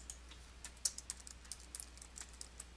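Fingers type quickly on a computer keyboard, a soft, close run of irregular key clicks over a faint steady hum, with no talking.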